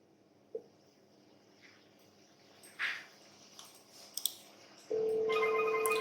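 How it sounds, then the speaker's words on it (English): A code is dialed on an analog phone through a Grandstream FXS adapter, with faint clicks and tones before a loud steady telephone tone starts and holds to the end. "I'm dialing the code 991 and 902 extension number."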